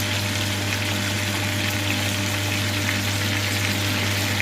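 Eel frying in a pan gives a dense, steady sizzle and crackle of hot fat, close and loud throughout, alone without talk.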